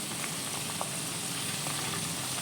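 Chopped green chilies frying in a pan of oil for Kerala-style ginger pickle, a dense, steady close sizzle with a few faint pops, no voices.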